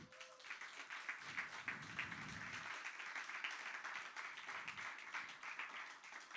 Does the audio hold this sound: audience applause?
yes